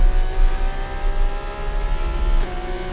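An F2 race car engine in the F1 24 video game at the Netherlands track, a loud steady high-revving drone with layered harmonics, holding near-constant pitch with a brief shift near the end.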